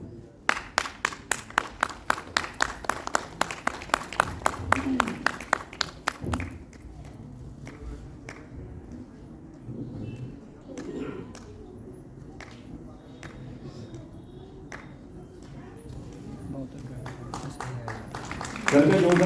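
Audience at an IVRI Bareilly retirement ceremony applauds a retiring employee: a burst of loud, fast, even claps for several seconds, then it thins to scattered softer claps and room noise, with a louder clap at the end.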